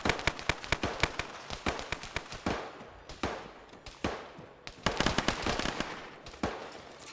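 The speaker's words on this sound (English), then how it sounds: "we're taking heavy fucking fire from the southeast" Rapid bursts of gunfire from a military video game, a close, loud stream of sharp cracks in uneven clusters with brief pauses between volleys, with no voices over it.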